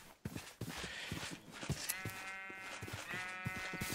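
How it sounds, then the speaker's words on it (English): Sheep bleating in a video game, a few short baa calls over a busy background of game noise, near and fairly clear with no talking. "Yes, brown sheep,"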